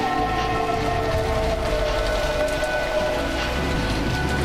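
Rain in the Umineko video game, a steady dense hiss of falling rain with a faint droning tone beneath, continuous and even throughout with no talk.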